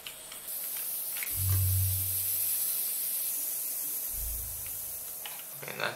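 Steam hisses from a pressure cooker inside a scary Christmas-themed video game, a steady broadband hiss lasting the whole stretch, with a couple of low thuds underneath and no one talking.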